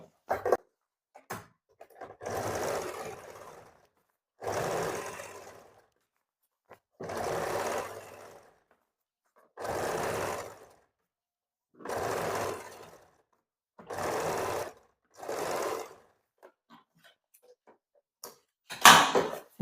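Sewing machine stitching pleats on a baby frock in about eight evenly spaced bursts, each lasting a second or two, separated by quiet gaps, close and clear with no voices.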